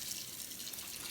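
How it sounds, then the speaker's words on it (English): A kitchen faucet runs water into a pot of eggs, a brief, faint and steady hiss of pouring water with no voices. "we'll take my faucet like this, and we can fill it with water"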